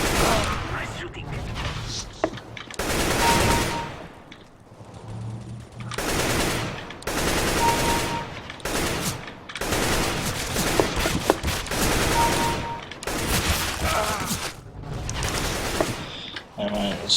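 Bursts of rapid gunfire from a first-person shooter game, several loud volleys separated by short gaps, with a voice talking at times over the shooting.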